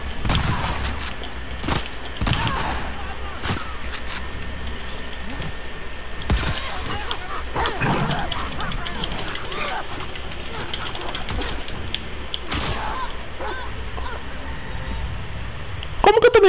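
Gunfire in The Last of Us Part 2 during an ambush in a city, several sharp, loud shots and impacts spaced out over a rumbling game backdrop, with occasional brief talk.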